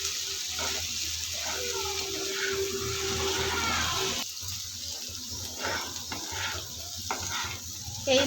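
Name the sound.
bitter gourd frying in a pan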